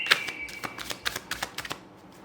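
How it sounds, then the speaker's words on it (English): Tarot cards are shuffled by hand in a string of quick, crisp riffling flicks and slaps, close and fairly quiet with no talk. "I'm gonna shuffle the cards here"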